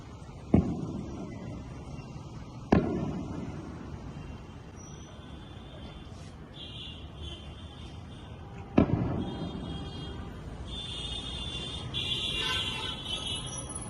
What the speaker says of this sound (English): We can once again see air defense activity.